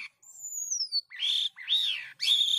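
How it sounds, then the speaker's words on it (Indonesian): Asian pied starling (jalak kapas) calling: a thin descending whistle followed by three loud, harsh, rising-and-falling squawking phrases in quick succession, close and alone with no background noise. "Jalak kapas, Agropsars turninus."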